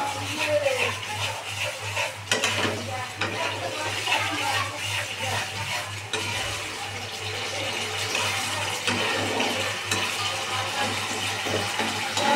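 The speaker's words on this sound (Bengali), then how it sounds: "এবার গোবিন্দভোগ চালটা দিয়ে এরকমভাবে কষাবো" Gobindobhog rice stirred and sautéed with fried spices in a pan gives a steady, close hiss across the whole stretch, with faint scraping under a constant low hum.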